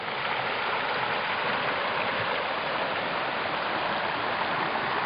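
Steady rushing water flows continuously, a broad even hiss of the Chechva or Limnytsia river current in Ukraine, with no pauses or voices.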